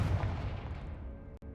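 A Confringo blasting spell in Hogwarts Legacy goes off as one loud, booming burst that rumbles and slowly fades over about a second, followed by a brief silence and a softer tail.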